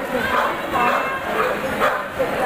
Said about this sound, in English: That's where the doggies are waiting to take their turn.